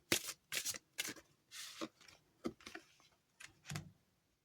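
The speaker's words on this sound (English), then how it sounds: "We're gonna get all of our cards out here." Tarot-style cards are handled and laid out for a card reading, giving a run of quick papery flicks and slaps in a loose rhythm, close and fairly soft, with no voice over them.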